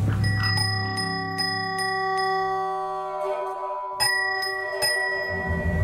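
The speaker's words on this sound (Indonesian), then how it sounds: "Suara lonceng." Bell rings repeatedly in a drama scene, bright metallic strikes with long shimmering tones that decay and overlap, several distinct hits across the clip, with no one speaking.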